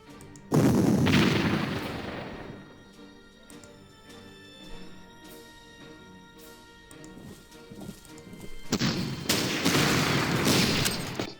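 Artillery and gunfire in the Panzer Corps strategy game, with a loud burst of rapid shots and booms, then a quieter stretch of scattered thuds before another dense volley of fire near the end.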